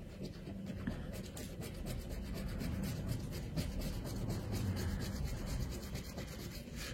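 A scratch-off lottery ticket rubbed steadily with a coin or nail, a continuous close raspy scraping that runs the whole time with no talking.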